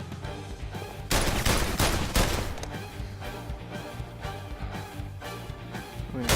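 Rapid gunfire in the VR game London Heist, with loud repeated shots and bursts in quick succession, partly overlapped by a voice talking.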